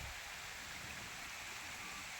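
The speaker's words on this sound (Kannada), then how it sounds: "ಒಂದು ಮಾನವ ನಿರ್ಮಿತ ಮಿನಿ ಜಲಪಾತ ನೋಡ್ತಾ ಇದ್ದೀರಾ ನೀವು." A small man-made waterfall in Turuvekere taluk sends water rushing in a steady, even roar, heard alone and fairly faint.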